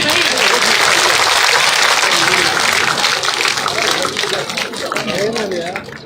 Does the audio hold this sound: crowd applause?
yes